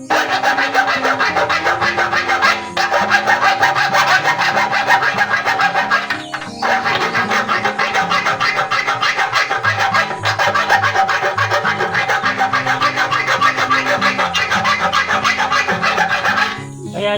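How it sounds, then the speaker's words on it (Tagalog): Hand file rasping on metal while fitting a fuel gauge level sensor into the gas tank of a Rusi 150 motorcycle, steady back-and-forth scraping strokes running continuously, close and loud, with no talk. "Ito, Kikilan na lang natin ng ganito."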